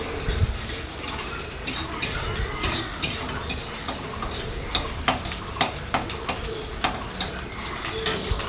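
Chow mein with egg and onion is stir-fried in a pan, a soft sizzle under regular, rhythmic clacks of a spatula scraping and tossing the noodles at close range.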